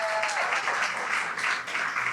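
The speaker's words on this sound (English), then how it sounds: "Give them a round of applause." Steady applause from an audience at a Caribbean Heritage Month celebration, welcoming the Channel 7 News team forward, continuing evenly for a couple of seconds with a brief tonal note at the start.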